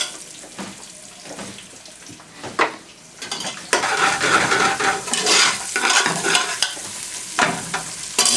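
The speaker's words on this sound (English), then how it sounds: "You just want to cook that onion till it goes soft, a couple of minutes" Chopped onion frying in oil infused with spices for pre-cooking chicken, a steady sizzle with scraping stirs that grows louder partway through, close and continuous with no talking.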